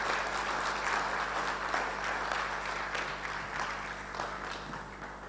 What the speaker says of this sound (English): Can you please give another heavy round of applause?